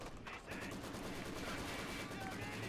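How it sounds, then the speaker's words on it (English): A machine gun opens up on infantry in the World War II strategy game Company of Heroes 2, its fire a steady, faint, distant rattle in a dense mix of battle noise, with some talk over it. "MG opens fire on the Grenadiers"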